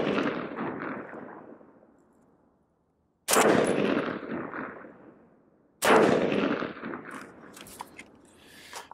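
Two sharp gunshots from a short 5.5-inch 300 Blackout barrel firing Maxim Defense 115 grain rounds, each a loud crack followed by a long fading echo, with silence between them.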